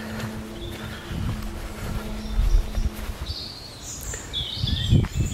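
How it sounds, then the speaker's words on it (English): Birds sing in Gwyniau Woods, with several short chirps and warbling phrases rising over wind noise and low rumbles from the outdoor setting. "that's a lovely bird song"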